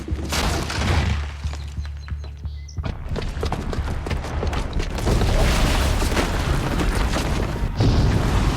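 Booby-trapped bomb going off in Horizon Zero Dawn: a low rumbling hum cuts out, then heavy booming blasts and crashing debris rumble on loudly and continuously.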